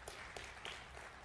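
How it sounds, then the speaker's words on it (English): Faint applause from a church congregation during a sermon, a brief soft burst of several hands clapping, distant and low in level. "She clapped."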